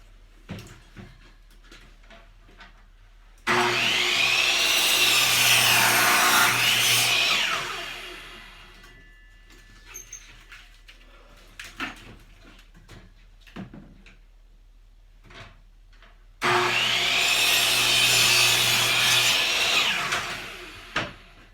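Two long, loud spells of hand sawing through wood, a steady back-and-forth rasp lasting several seconds each, with quiet knocks and handling sounds between them.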